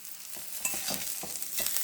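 Ridge gourd chutney ingredients and coriander leaves roast in oil in a still-hot pan after the heat is switched off, a soft, quiet frying crackle broken by several light stirring scrapes, with no talking.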